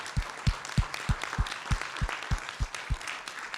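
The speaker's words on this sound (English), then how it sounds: "Can we just offer a round of applause to the panelists tonight?" Audience applause for panelists: a soft spread of clapping under a steady, evenly spaced low thumping beat that runs through the whole stretch at moderate distance.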